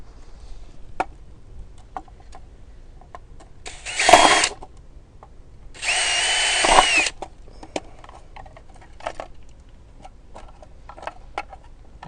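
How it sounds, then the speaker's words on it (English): An SDS drill pre-drills screw holes during an EV charger installation: two loud bursts of whirring drilling, about a second each, separated by a pause, amid quiet ticks and handling clicks. "when you use an SDS drill it can be quite powerful, so we recommend to pre-drill the 4 screw holes"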